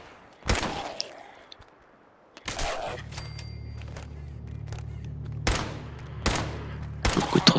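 Gunfire in Fallout 4 with a zombie apocalypse mod: several sharp, loud shots spaced a second or so apart, separated by a low mechanical hum and quieter clatter.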